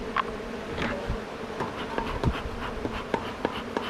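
Honeybees buzz around an open hive in a dense, continuous hum, with scattered close passes and light clicks of handling on top.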